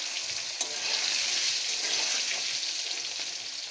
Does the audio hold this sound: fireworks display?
no